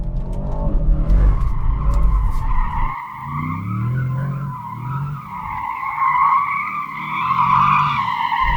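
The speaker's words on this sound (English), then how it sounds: "Let's see how easy this car is to slide with the stability off." Tyres squeal loudly and continuously on tarmac as an SUV slides with stability control off, the screech wavering in pitch over a low engine rumble, with no voices.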